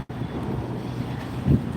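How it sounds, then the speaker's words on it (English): Steady wind gusts across the microphone on a city street near the Brooklyn Bridge in Manhattan, a constant low roar that swells briefly near the end, with no talk. "Ooh, it's windy over here."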